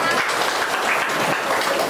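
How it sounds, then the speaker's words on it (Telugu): Dense, steady applause from a gathered crowd fills the air at the opening of a new BC hostel building, an MLA present. The clapping holds at an even level throughout, with faint voices beneath. "గట్టిగా క్లాప్స్ కూడా ఒకసారి"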